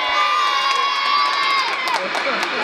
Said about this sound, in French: Les points gagnants de Lucas Pouille sont accompagnés à chaque fois de cris de joie au TC Lone Plage.